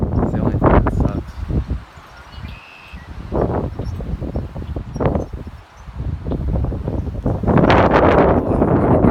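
Wind blows outdoors on a mild morning, gusting and buffeting the microphone in uneven surges that rise loud toward the end, with a person talking in between.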